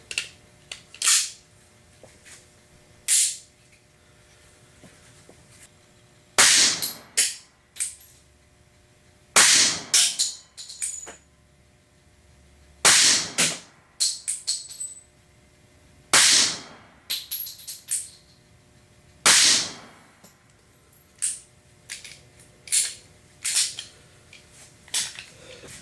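Springfield XDS .45 ACP pistol fired outdoors in quick bursts of sharp, loud cracks, clusters of shots separated by short pauses across the stretch, with faint background between strings.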